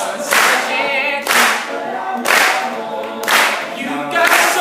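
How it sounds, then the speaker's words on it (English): An audience claps along to a live a cappella performance, with bursts of clapping blending into the steady, loud singing. "Everybody clap your hands"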